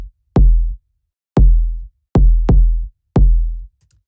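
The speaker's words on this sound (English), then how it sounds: "this is an actual kick from an 808" Kick drum from an actual Roland 808 drum machine, four deep booming hits with sharp clicky attacks and short decaying low tails, played alone in an uneven rhythm with one closer double hit.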